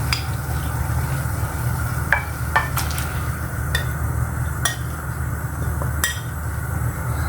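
Kimchi soup stirred in a pot over a low bubbling simmer, with a few sharp clinks of a utensil against the pot rising above the steady sizzle.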